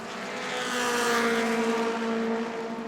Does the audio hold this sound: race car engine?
yes